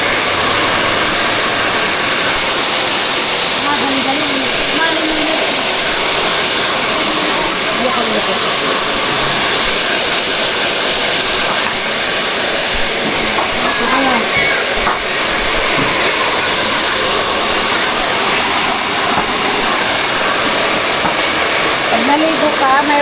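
Hair blower used for drying after a bath, a loud continuous airy whoosh running steadily throughout, with a voice talking faintly underneath.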